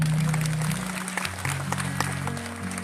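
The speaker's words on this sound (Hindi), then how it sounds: "एक बारी जोरदार तालियां" A crowd claps steadily, a dense wash of applause while a sustained musical tone hums underneath.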